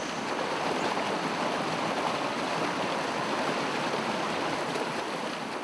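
The Guitin waterfall on a mountain trail on Sibuyan Island pours into a pool, a steady broad rushing hiss of falling water, constant and fairly close with no talking.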